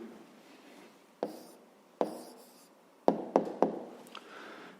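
A pen writes on paper at a desk while an answer is noted down, with soft continuous scratching broken by several sharper taps and strokes, close and fairly quiet, and no talking.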